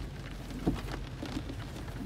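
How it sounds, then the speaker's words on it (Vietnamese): Heavy rain during a typhoon on Phu Quoc falls in a steady, soft hiss, fairly quiet and continuous throughout. "cái lượng mưa nó rất lớn"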